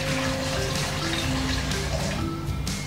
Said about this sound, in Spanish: abrimos el agua, la abrimos